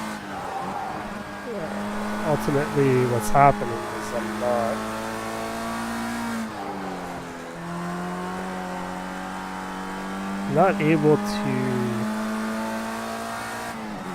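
Racing car engine in a racing video game, a steady droning tone that rises and falls through gear changes, with brief squeals as the tyres slide, under someone talking.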